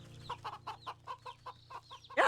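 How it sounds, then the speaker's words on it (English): Chickens in the video game Wytchwood give a quick run of about ten short, rhythmic clucks close by, ending in a louder squawk. "Apparently you can poke the chickens."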